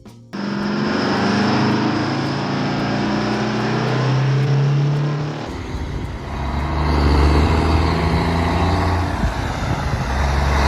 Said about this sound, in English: The truck's engine sound was enhanced to match its commanding presence.